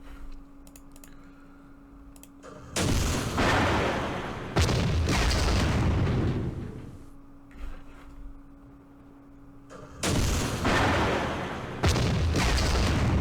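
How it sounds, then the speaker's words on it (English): Artillery barrage in the strategy game Campaign Series Vietnam, with loud broadband booms arriving in several long rumbling bursts, separated by quieter stretches of faint clicking and a low steady hum. "Call in some more artillery."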